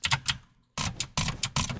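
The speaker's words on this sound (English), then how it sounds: "Drag clicking. I'm just drag clicking." A computer mouse is drag-clicked during a Minecraft Bedwars match, producing close, rapid bursts of crisp clicks in quick clusters separated by short pauses.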